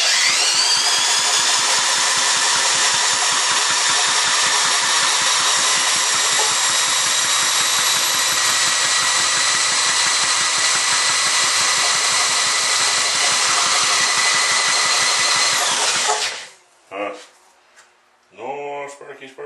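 A small Ironhorse engine with a known-good carburetor and spark plug runs steadily and loud at close range with a buzzing, even drone, then cuts out abruptly, followed by a few short bursts and quiet handling noise.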